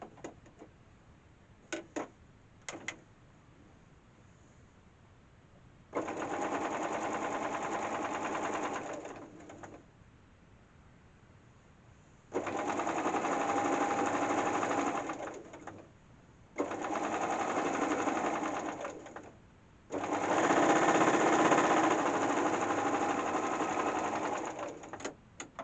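A sewing machine stitches down a fabric quilt binding seam in four steady bursts of rapid whirring, each lasting a few seconds, separated by brief pauses with light clicks, close and alone.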